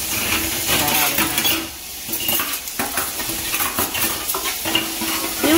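New metal silverware clinks and clatters as it is set into place in a home kitchen, a close run of bright jangling rattles with a brief lull partway through.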